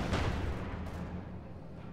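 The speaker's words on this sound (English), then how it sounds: "IL-2 strafing run right on top of the enemy base, doing a lot of damage here to the squads." An IL-2 ground-attack aircraft strafes an enemy base in Company of Heroes 2, with a burst of heavy, booming gunfire and rumbling impacts up front that fade into a low, decaying rumble.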